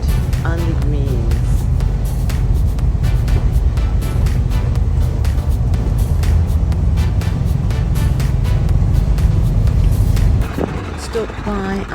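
A car travels an inland winding road through autumn countryside in Ireland toward Galway, its steady engine and road rumble filling the interior, with a person talking over it and the noise easing near the end.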